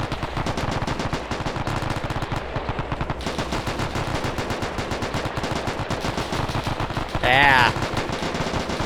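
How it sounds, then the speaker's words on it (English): Browning machine guns in a video game fire long, rapid bursts of close, loud gunfire with continuous rattling. A brief electronic chirp is heard near the end, and a voice makes a short remark. "I don't know, some sort of Browning firing back."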